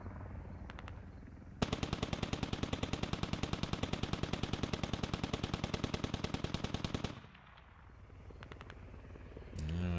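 Rapid automatic gunfire from the video game SquadOps rattles in one loud, sustained burst of about five seconds, then cuts off, leaving quieter background noise and a faint distant rumble.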